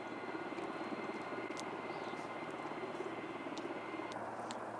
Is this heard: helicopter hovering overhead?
yes